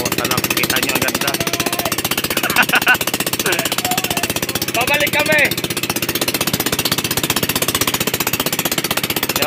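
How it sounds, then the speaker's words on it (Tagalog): A small outrigger boat's engine on Caliraya Lake in Laguna rattles loud and steady throughout with a rapid pulsing chug, close to the microphone, while people shout over it. "Medyo maingay. Gawa ng makina nung pangka natin."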